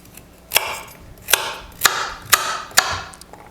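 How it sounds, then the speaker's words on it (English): Five sharp knife chops on a cutting board at an even, unhurried pace, close and crisp, as peeled carrots and potato are cut up for a low-calorie curry sauce. "I've peeled the carrots and the potato. I'm just chopping them up now."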